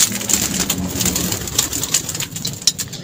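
Pigeons and doves kept in a bird setup, soft cooing and fluttering with scattered scuffling and pecking noises nearby, no talking.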